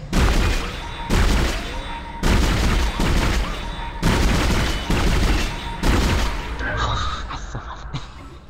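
Rapid gunfire from the video game Dead Space comes as repeated heavy bursts about once a second, booming and loud with low-end thumps. A faint high electronic tone runs through it near the end.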